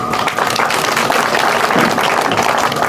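Steady, dense applause from a crowd at an election campaign rally in Bhiwani, India, a continuous wash of many hands clapping with no pauses or voices.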